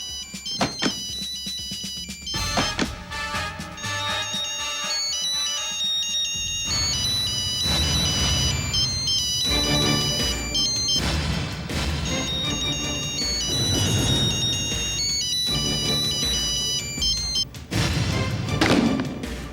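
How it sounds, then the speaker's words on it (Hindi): A mobile phone ringtone plays during a tense spy drama scene, a loud repeating electronic melody running for about twenty seconds alongside dramatic music hits and thuds. "यही है ना मिस्टर कपूर का मोबाइल?"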